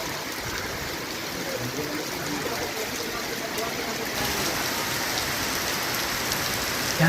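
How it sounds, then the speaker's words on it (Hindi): Heavy, steady rain pours down across a residential colony in Rajasthan, a dense continuous hiss of drops hitting surfaces, loud and close throughout with no break. "यहाँ 3 दिन से लगातार बारिश हो रहा है और बहुत तेज़ बारिश हो रहा है।"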